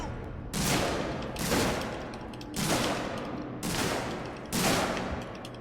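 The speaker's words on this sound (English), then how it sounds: "Why does everybody try to shoot me?" Heavy gunfire in the sci-fi horror game Alien: Isolation, four loud bursts of sustained shooting spaced about a second apart, each sharp onset trailing into a noisy rumble.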